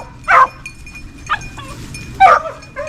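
Dogs at DV Kennel, including young puppies, give three short separated yelping barks at mid distance, with quiet background between them and no talking.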